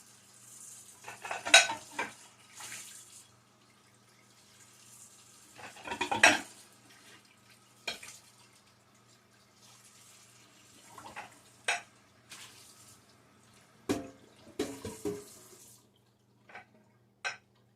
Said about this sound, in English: Then we'll just slide right on over and rinse our other plates.